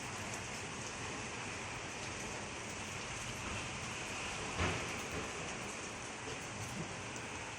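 Dense, steady downpour of heavy rain hissing continuously, with a brief louder splash midway and no clear voices.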